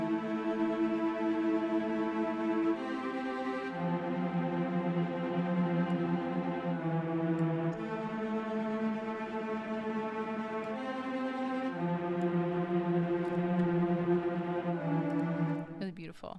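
Orchestral violins and violas play sustained tremolo chords together in an epic choral score, a dense, steady string texture that shifts harmony every few seconds and fills the whole passage before fading at the end.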